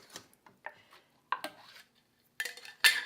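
Metal utensil clinks and scrapes against a bowl while fresh farm milk is mixed, a few sparse sharp taps and stirs, close and fairly quiet with silent gaps between.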